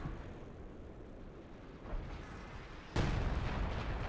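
Artillery barrage in Company of Heroes 2 pounding an enemy base: a low, rumbling wash of distant shell impacts that suddenly swells into a louder, closer, sustained roar of explosions partway through.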